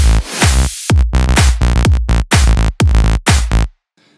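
A buzzy, bright bass synth plays a rhythmic pattern of short and held notes, harsh and full of overtones, loud and up front.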